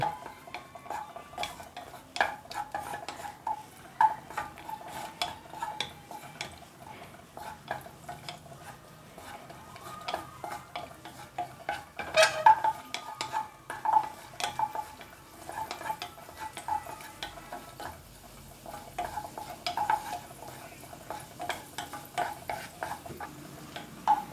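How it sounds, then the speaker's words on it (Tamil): Cashews and raisins fry in a pan for sweet pongal while a spoon stirs them, producing a soft sizzle broken by frequent metallic scrapes and clinks against the pan in an uneven rhythm. "திராட்சை போட்டு வறுக்க வேண்டும்"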